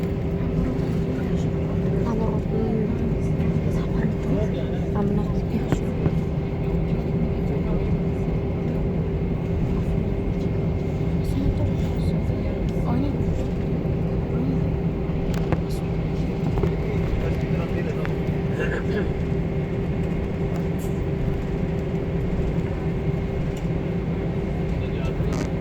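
Airplane taxiing, turning and speeding up, a steady engine drone with a constant tonal hum heard from inside the cabin, accompanied by ongoing talk.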